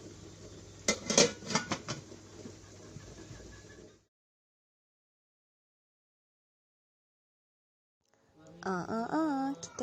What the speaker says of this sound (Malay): Masukkan loyang yang berisi adunan kek kukus coklat tadi ke dalam periuk kukus.